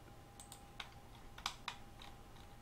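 A few sharp computer mouse clicks, single and in quick pairs, faint and close against a steady low hum, with no voice.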